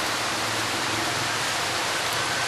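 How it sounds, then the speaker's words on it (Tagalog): Rain falling steadily, a dense, even hiss with no breaks and no voices. "Ba't naulan?"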